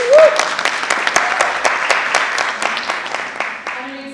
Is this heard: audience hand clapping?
yes